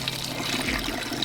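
Water runs steadily from a tap into a small water tank, a continuous close rushing and trickling sound with no voices.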